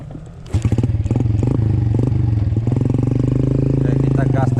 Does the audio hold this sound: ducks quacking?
no